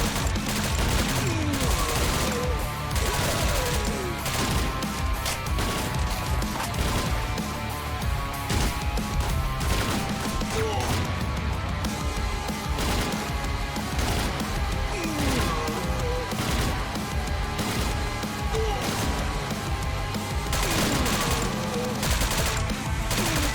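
Intense firefight in a STALKER story mod: dense, loud bursts of gunfire and rapid automatic shots hammering almost nonstop, with crashes and impacts layered through the whole stretch.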